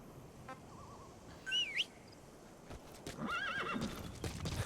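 In Metal Gear Solid V: The Phantom Pain a horse whinnies twice in clear rising-falling calls, with soft clip-clop of hooves and quiet game ambience behind.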